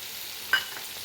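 Butter sizzles and fries steadily in a pan for Mumbai-style pav bhaji, a soft continuous hiss with one brief louder crackle partway through, no voices.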